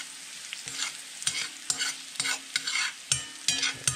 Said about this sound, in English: we're just gonna nicely saute these guys